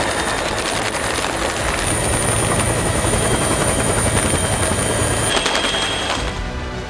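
Army helicopters hovering during a flood rescue, their rotors producing a loud, steady, continuous thumping chop that fills the whole stretch with no voices.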